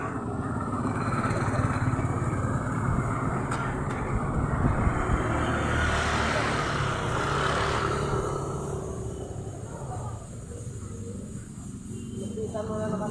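A heavily loaded motorized tricycle's engine drones steadily and close for the whole stretch, a rough, continuous motor noise that eases slightly near the end.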